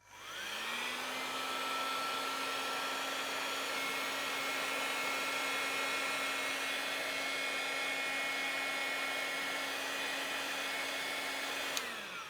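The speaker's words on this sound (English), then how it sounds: "If your hairdryer is too powerful and you try to heat it up" A hair dryer whirs up, blows a steady loud whine of hot air for several seconds, then switches off with a brief click.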